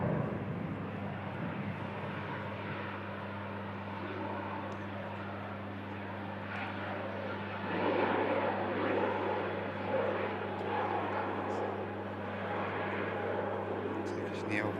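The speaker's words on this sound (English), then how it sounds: "Turkish Neo touches down." A Turkish Airlines A320neo-family jet touching down, a distant rumbling engine and rollout noise beneath a steady low hum, with a person talking over it.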